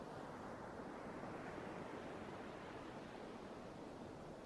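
Ocean waves wash in a steady, faint, unbroken rush of surf with no distinct breaks between swells and no voices.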